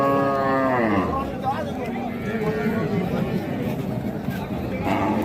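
A Sahiwal cow and her calf at a busy cattle market, with a long, loud, close moo sliding downward, over a constant background of crowd babble and people talking.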